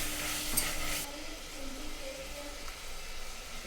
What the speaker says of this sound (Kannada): ಟೊಮೆಟೊ, ಒಂದು 2-3 ಮಿನಿಟ್ಸ್ ಫ್ರೈ ಆಗಬೇಕು.